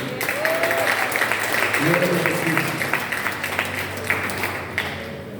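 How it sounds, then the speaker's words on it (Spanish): Congregation at a church sermon applauds, a continuous wash of clapping at moderate loudness lasting several seconds, with a voice speaking or calling out over it. "Denle un aplauso ahí, fuerte."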